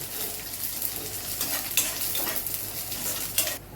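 Onion fried until lightly pink, with ginger and garlic added, is stirred in a pan with the gas off: a steady sizzle broken by repeated scraping strokes of a spoon, with no talk.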